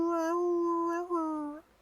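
A person imitates a dog howl with one long sustained tone that wavers slightly and then drops away, loud and close with no other sound.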